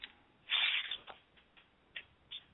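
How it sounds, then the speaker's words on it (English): Papers rustle and crinkle over a caller's phone line, one thin, muffled burst followed by a few fainter crackles and rustles, with no voices. "We can hear papers rustling."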